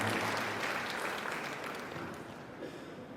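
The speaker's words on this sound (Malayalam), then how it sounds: "നല്ലൊരു കൈയടി അദ്ദേഹത്തിന് നൽകാം" An audience claps at a family gathering and silver jubilee celebration, a dense wash of applause that begins fairly loud and slowly fades without dying out.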